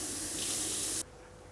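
Tap water running into a sink, a loud steady hiss and splash that cuts down sharply partway through to a quieter trickle.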